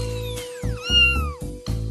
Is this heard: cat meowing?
yes